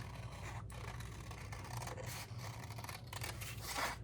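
Scissors cut through printed paper for a seashell craft, giving close, repeated snips and scraping blade strokes in an uneven rhythm, alone without voices.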